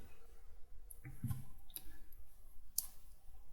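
A computer mouse gives a handful of faint, crisp clicks, spaced irregularly over a quiet room background while modeling in Maya.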